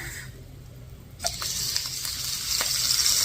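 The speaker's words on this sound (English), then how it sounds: "And immediately we are going to add our beef." Beef pieces dropped into a hot pan for bourguignon, setting off a sudden loud sizzle that continues as a steady, close frying hiss with a few small clatters.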